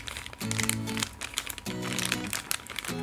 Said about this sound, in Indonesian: suara kantong kresek nih misalnya.